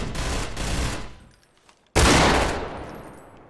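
Bursts of rapid gunfire in Black Mesa aimed at a cockroach enemy: a loud rattling volley that fades, a brief lull, then a sudden heavier blast of shots that slowly trails off, close and without talk.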